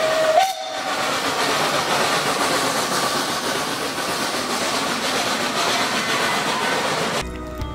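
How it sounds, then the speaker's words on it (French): A steam train rumbles and hisses steadily at close range, with a brief whistle blast right at the start, then a sudden cut near the end. "Et à toute vapeur, crachant la fumée et un coup de sifflet pour nous."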